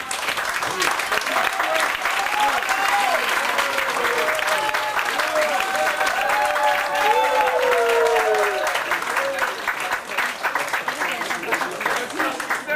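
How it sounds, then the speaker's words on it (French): Audience applause for a family being honored at a ceremony, sustained dense clapping throughout with faint voices beneath. "Et vous pouvez applaudir toute la famille d'ailleurs, vous pouvez applaudir aussi Marina"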